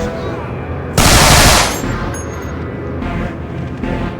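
Gunfire in the video game Manhunt 2: a loud burst of rapid automatic shots in the middle, followed by quieter scattered shots and gunfire noise under a low game background.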